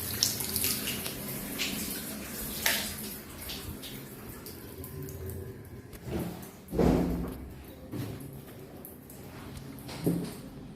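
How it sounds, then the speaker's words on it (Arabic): Water runs from a tap in an apartment for sale in Alexandria as the pressure is tested, a steady splashing flow with a few thumps and handling knocks nearby. "نشوف ضغط المية، ضغط المية كويس"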